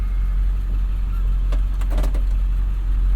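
A 1999 Ford F-350 Power Stroke diesel truck engine runs steadily, a continuous low rumble with a few brief clicks and rattles partway through, close and fairly loud.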